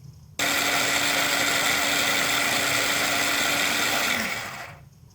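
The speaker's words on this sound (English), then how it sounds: "First I'm going to peel the garlic and grind it." An electric grinder crushes peeled garlic cloves in one loud, steady whine that starts abruptly, holds for about four seconds, then winds down as the motor slows to a stop, with no talking.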